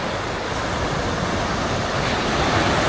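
Strong waves breaking against a rocky shoreline lined with concrete jackstone breakwaters, a steady heavy wash of surf heard close and alone with no voices.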